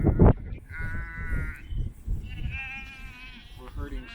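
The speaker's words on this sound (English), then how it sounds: "We're herding sheep." Sheep in an Irish countryside bleat several times in wavering, drawn-out calls, fairly close, while people talk and laugh over them.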